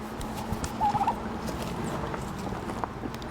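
A farm turkey gobbles once in a short warbling burst near the one-second mark, moderately close, over a steady outdoor background with no talking.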